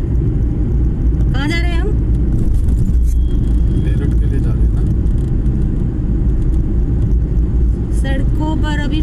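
A car drives along a busy road out of Delhi toward Meerut, its low engine and road rumble steady throughout while people talk inside over the noise.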